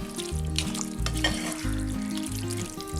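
Beef masala with added water sizzles in a pan for Kochi-style meat rice, a loud continuous frying hiss with stirring scrapes, close up and without speech.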